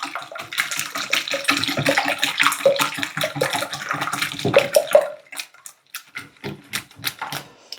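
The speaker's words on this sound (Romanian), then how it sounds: "Punem un ou întreg și amestec bine oul." A whole egg being beaten into cake dough in a bowl, with brisk rhythmic clicking and scraping strokes that turn into slower, separate taps near the end, no talking.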